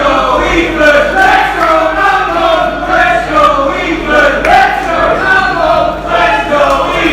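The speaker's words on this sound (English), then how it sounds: "Crowd's incredibly divided." A loud, divided crowd at a TNT IGNition wrestling show cheers, chants and roars continuously, with rising swells of mixed support and jeers filling the arena and no clear single voice on top.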